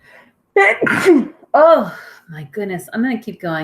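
One sudden, close sneeze erupts during a music lesson, followed by the person speaking briefly.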